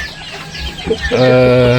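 A KOB crossbreed chicken from a Brahma and Bangkok cross clucks up close, giving a short loud burst of squawking calls.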